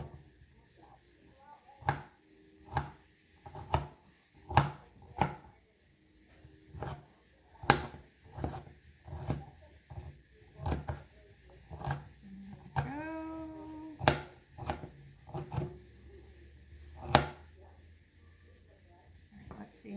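Vegetables chopped into bite-sized pieces on a cutting board produce about twenty sharp knife strikes in a loose, steady rhythm, close and clear, with a brief voiced sound partway through.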